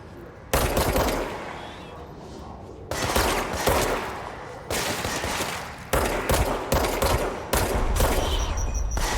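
Heavy bursts of gunfire in the Control video game, loud automatic volleys repeating in clusters, with short lulls between them.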